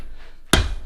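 A single sharp, loud hammer blow from a homemade hammer of about 3.5 pounds strikes sucker rod steel during blacksmith forging of punches and chisels, following a quiet stretch and ringing out briefly.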